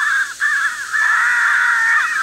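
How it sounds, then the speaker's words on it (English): An electronic caller plays a crow distress call for crow hunting, a loud, continuous run of harsh, wavering caws with no pauses and no voices. "That is the crow distress call."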